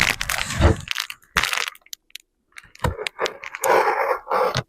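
Crinkly, crushing rustle of packaging being torn open around a Winchester 1906 barrel assembly, in several close bursts separated by short quiet gaps, with a few small clicks and taps.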